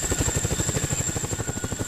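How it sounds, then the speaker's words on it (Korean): A Chinook military helicopter landing, its twin rotors thumping in a fast, steady rhythm close by, loud and alone. "드디어 고공 강화를 위한 헬기 시누크가 착륙하고"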